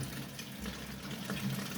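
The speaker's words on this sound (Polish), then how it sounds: "z tego głównego wylotu z komina woda zaczyna spływać dosyć mocno i głośno właśnie słychać" Water pours steadily and loudly from the main overflow outlet down into the sump of a 600-litre aquarium, a continuous close splashing rush with no pause.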